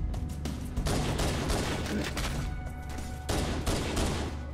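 Assault rifle gunfire in Halo: Combat Evolved rattles in dense, sustained automatic bursts, loud and close, with a couple of brief pauses between volleys.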